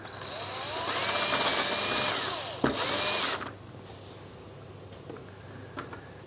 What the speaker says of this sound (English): Then I'll get down and drill those holes properly.